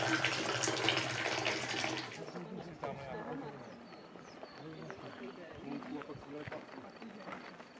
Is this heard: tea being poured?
yes